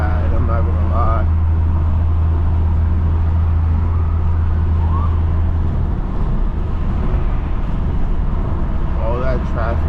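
Late-night road traffic in New York City is heard from inside a moving car, a steady low engine and road drone with vehicles passing, and voices talking now and then over it.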